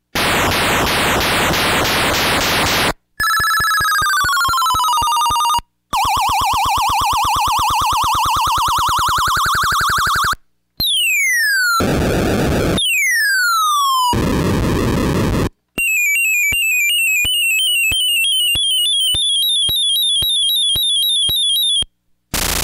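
A circuit-bent Disney toy keyboard plays a run of loud electronic sound effects one after another: buzzy tones, sweeping siren-like pitches and beeping chirps, separated by brief gaps.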